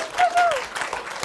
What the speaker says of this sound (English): We get a quick round of applause for our brave volunteer.